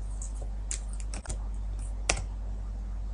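Several light, scattered keystrokes on a computer keyboard, clicking close and quiet in a still room with a few sharper taps spaced unevenly.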